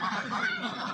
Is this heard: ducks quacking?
yes